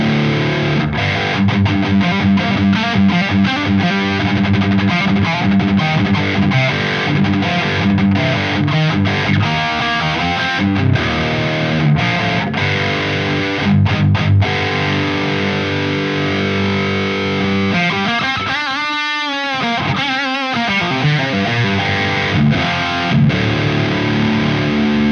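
Electric guitar through a Synergy Peavey 6505 module in high-gain crunch mode, with loud saturated chugging riffs and sustained distorted chords played continuously up close, a held ringing note near the end.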